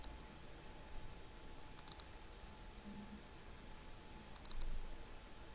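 Quiet computer clicks sound during PLC programming work, with a few brief paired clicks standing out over a low, steady room hiss.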